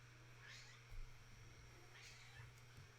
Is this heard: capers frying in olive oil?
no